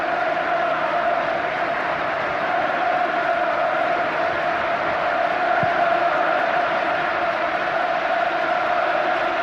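A 40,000-strong football crowd roars at Old Trafford during a 1994 Champions League match against Manchester United, a loud, steady and unbroken wall of noise with no breaks.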